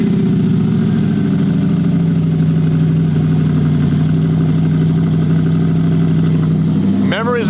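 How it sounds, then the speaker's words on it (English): Audi R8 V8 engine idling steadily and loudly after a cold start, a dense low rumble throughout, with a brief rising rev near the end. "Do you want to start that for me so I can get a cold start?"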